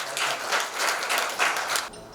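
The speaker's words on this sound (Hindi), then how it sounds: "जोरदार तालियों से स्वागत करिए मिस्टर अमित टेढ़े जी का" An indoor audience at a launch event applauds to welcome a speaker: steady, moderately distant clapping that swells in waves for about two seconds, then stops abruptly.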